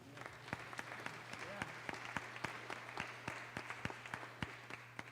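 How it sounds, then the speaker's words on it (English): A small crowd applauds steadily, individual claps sharp and close over a low hum, continuing for several seconds. "So a hand clap for that."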